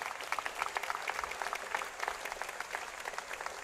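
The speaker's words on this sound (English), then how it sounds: "So let's give them a round of applause." A large convocation audience at Johns Hopkins University applauds, many hands clapping in a steady, fairly distant ripple that continues without interruption.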